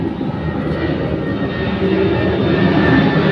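A propeller aircraft drones overhead, steady and fairly loud throughout, swelling slightly toward the end in an outdoor rural setting.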